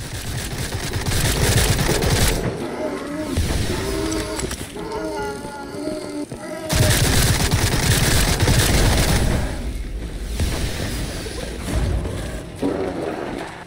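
Near-continuous rapid gunfire in the horror shooter Sker Ritual, loud and dense, with one quieter stretch in the middle before the shooting picks up again.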